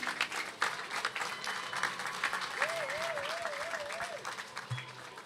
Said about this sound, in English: Let's give a round of applause to Serena Harris.